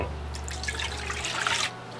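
Water being poured into a cup for a cauliflower batter in a home kitchen, a steady close trickle lasting over a second before a low hum drops away.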